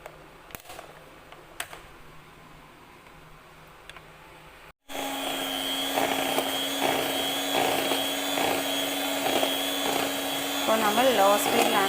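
An electric beater whips fresh cream on low speed for a three-ingredient mango ice cream, its steady motor whir starting abruptly after a quieter stretch of faint background and running loudly to the end.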